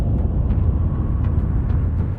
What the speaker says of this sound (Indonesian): Tapi bagaimana kamu tahu kalau yang kamu dengar itu pasir bernyanyi?